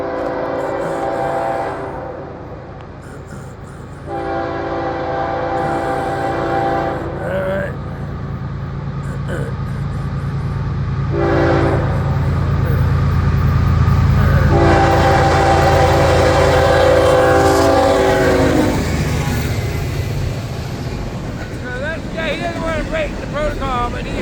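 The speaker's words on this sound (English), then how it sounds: "he holds the horn long at the end" A northbound train on the FEC line in Florida rolls past with a loud, continuous rumble, sounding its horn in several blasts and ending with a long held one, while people talk nearby.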